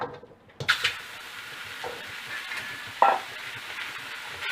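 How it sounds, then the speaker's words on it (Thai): Pork stir-frying in a dry pan without oil for Thai kaphrao, a soft continuous sizzle broken by a few sharp clinks and scrapes of the spatula against the pan. "ค่อยๆ รวนนะคะ จนกระทั่งหมูสุกค่ะ"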